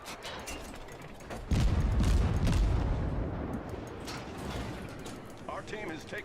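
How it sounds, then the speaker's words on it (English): Torpedoes launch from a warship in World of Warships with a sudden loud whooshing, rumbling burst that swells and then slowly fades into mechanical ship noise, while a voice speaks over the game sounds. "Torpedoes away."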